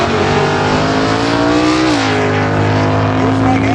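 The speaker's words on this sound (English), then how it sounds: "you watch this Cougar launch" A 1969 Ford Cougar drag car launches hard, its engine roaring loud and close with a steady high rev that climbs sharply midway through the pull.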